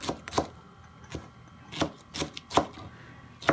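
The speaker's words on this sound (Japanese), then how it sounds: "スナップエンドウは細切りにして" A knife slices snap peas into thin strips on a cutting board, giving a series of crisp, close chopping taps at an uneven rhythm, about eight distinct strikes.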